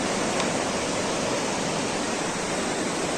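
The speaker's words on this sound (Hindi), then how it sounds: "ये स्पीति नदी आ गए हम" The Spiti River in the high Himalayan desert rushes past in a loud, steady broadband roar of flowing water that holds unbroken throughout, with no voices over it.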